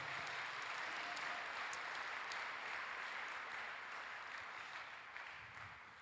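Church congregation applause during a Sunday worship service, a broad, even roar of many hands clapping together in a large room, full from the start and slowly tapering toward the end.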